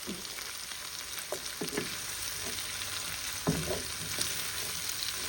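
Spicy vegetables sizzle and fry in a hot pan, a steady close crackle with a few louder stirring scrapes and clatters, no voices.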